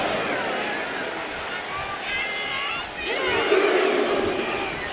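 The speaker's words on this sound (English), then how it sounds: "And Zelina is revving this crowd up." Arena crowd noise in the WWE 2K26 wrestling video game, a steady roar with rising cheers toward the end, under a commentator's speech.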